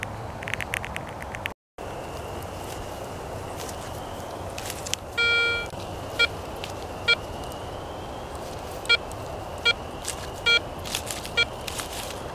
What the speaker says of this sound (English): The detector barely picks it up. And it's made that beeping sound a couple of times.